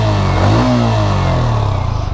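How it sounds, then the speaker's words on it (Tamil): A Yamaha R15 V4 155cc motorcycle revs up close, its exhaust note rising and settling in a steady loud mid-pitched drone with no talking. "ஸோ இதோட எக்ஸாஸ்ட் நோட்டு கேளுங்க"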